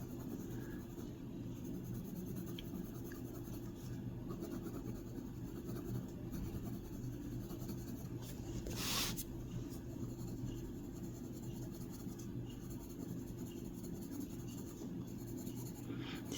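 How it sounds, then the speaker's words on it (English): Colour pencil scratching steadily across a sketchbook page while colouring, a faint continuous papery rasp with a low room hum beneath and no talking. "This is the first time I'm using the color pencil."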